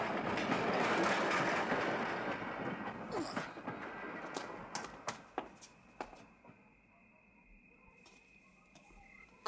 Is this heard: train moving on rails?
yes